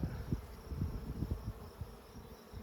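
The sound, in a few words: honeybees buzzing at a beehive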